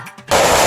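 A 10,000-count string of firecrackers bursts into a loud, dense, continuous crackle after a brief quieter lead-in with faint voices.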